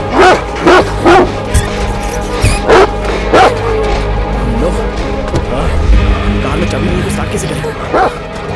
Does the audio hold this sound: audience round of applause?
no